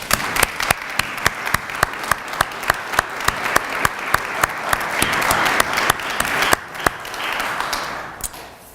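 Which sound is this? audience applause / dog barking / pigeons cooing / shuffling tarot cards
audience applause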